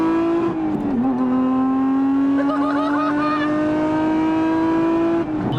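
A Lotus Emira fitted with a Valvetronic Designs exhaust holds a loud, close, sustained engine drone whose pitch dips briefly then climbs steadily as it revs, with a raspy exhaust tone throughout.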